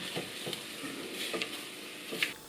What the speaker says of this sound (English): add your veggies, stir them around, turn it right down low